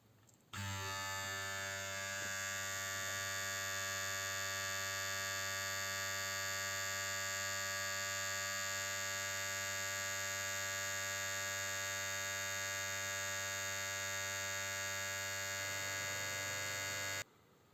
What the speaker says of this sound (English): I measured the energy consumed by the hair clipper with the Trotec BX11 energy meter and it seems that it consumes only 2 watt